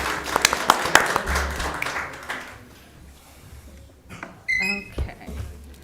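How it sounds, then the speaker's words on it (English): Scattered applause breaks out during a city council workshop meeting for the IT systems engineer, clapping loudest at first and then thinning out, followed by faint room noise and a few small knocks. "a huge round of applause for our IT"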